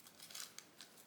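Scissors trimming the edge of a pen-and-ink paper artwork, a few soft quick snips with a light papery rasp, close and fairly quiet, no talking.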